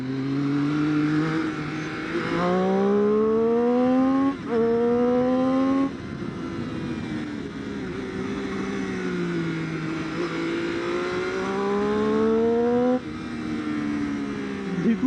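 A 2013 Triumph Street Triple 675 R motorcycle engine revs up and down repeatedly, its pitch rising through the gears and dropping between shifts, loud and close.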